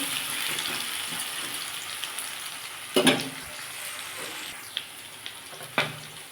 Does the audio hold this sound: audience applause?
no